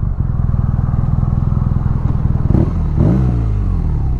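2017 BMW R NineT Racer motorcycle engine loud and close, a rapid pulsing idle that swells into revving near the end.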